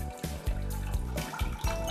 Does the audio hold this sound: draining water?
yes